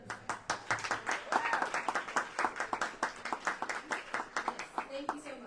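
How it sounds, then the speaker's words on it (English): A small audience at a book festival reading panel claps with the sharp, separate hand claps standing out in a fairly even rhythm, steady for several seconds before thinning out near the end. "can we give a huge round of applause for our businesses, staff, speakers, and organizations that we have with us."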